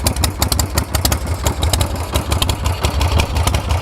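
A Harley-Davidson M8 motorcycle engine idling close up, a loud, uneven lumpy rumble with rapid irregular pulses that runs steadily throughout.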